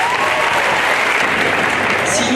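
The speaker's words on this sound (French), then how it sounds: "je tiens vraiment cette année à ce que vous leur fassiez un tonnerre d'applaudissements" Dense, loud crowd applause fills the whole stretch at the Fête de Bessan, an outdoor village festival, with a steady wash of many hands clapping together and no break.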